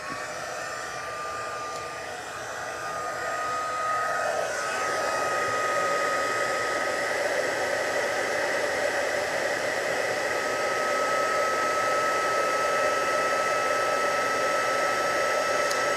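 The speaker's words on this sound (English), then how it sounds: "Now I am going to be using my heat gun" A heat gun melting embossing powder on a card blows a loud, steady whooshing roar with a thin whine running through it, close and continuous after it ramps up in the first few seconds.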